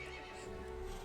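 A horse in the Resident Evil Village video game lets out a short, steady whinny over a low, even background, with no talking.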